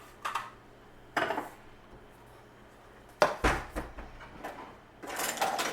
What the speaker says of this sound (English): we are going to take it out of this pan and we're going to put it on a meat platter